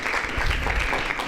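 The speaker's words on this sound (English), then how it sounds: "big applause for him." Brief applause from an audience at a university debate event, a short, dense burst of clapping with some low rumble beneath it.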